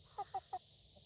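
A leghorn chicken gives three short, evenly spaced clucks close by, fairly quiet over a faint steady background hum.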